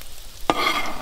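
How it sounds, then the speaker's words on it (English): Broccoli and carrots drop into a hot oiled pan for fried rice at a campsite. A sudden burst of sizzling follows and holds loud and steady to the end. "And then we're gonna add our broccoli and our carrots"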